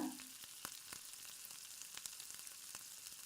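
Onions frying in oil in a home kitchen pan, giving a faint, steady sizzle with a few soft clicks of stirring, no voices.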